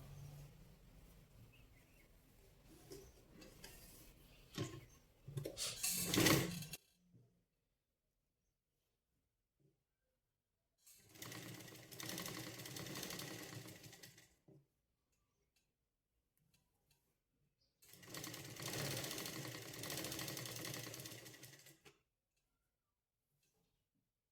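A sewing machine runs a finishing topstitch along a sleeve seam, its needle clattering in three rhythmic bursts of several seconds each, separated by quiet pauses, close and fairly loud.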